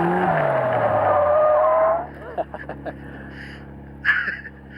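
Caterham sports car spinning out on a track, tires skidding and squealing loudly for about two seconds with engine noise, then settling to a low idle with faint knocks and a brief rustle.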